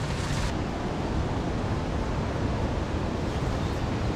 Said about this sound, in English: I don't know if you can hear me because the waterfall is very loud.